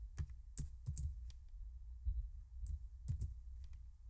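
Code being typed on a computer keyboard during a Java JUnit exception-testing session: bursts of crisp, close keystrokes in an irregular rhythm with short pauses, no talking.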